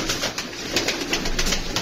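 Flown pigeons coo and flutter in a loud, dense chorus up close, with repeated soft pulses of calls and rustling wings throughout.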